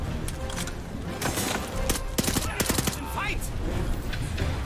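Rapid gunfire from the video game Call of Duty: Vanguard crackles in dense, irregular bursts over a busy game soundscape, with someone talking intermittently over the shots.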